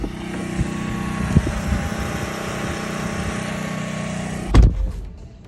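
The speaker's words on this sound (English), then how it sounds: "there's a taco truck outside, and they have a really loud generator" Taco truck generator running outside, a loud steady engine drone with a constant hum that cuts off sharply as a door shuts, leaving a much quieter muffled background.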